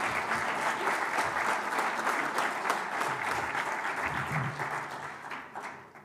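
A hall audience at the Namibia-EU Business Forum applauds an EU project contribution, a dense, sustained round of clapping that holds steady for several seconds and then fades out.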